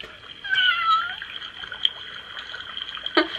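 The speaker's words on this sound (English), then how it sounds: "you can hear Binks as well meowing and the potion like bubbling" A Hocus Pocus toy plays a recorded cat meow, followed by soft potion-like bubbling and trickling liquid sounds, electronic and close, with a faint click at the end.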